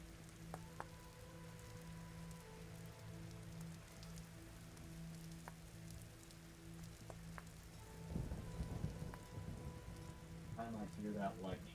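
Steady rain patters over a low droning hum in the video game Vintage Story, with a few soft thumps, and heavier rain and rumbling swell in the last few seconds of the thunderstorm.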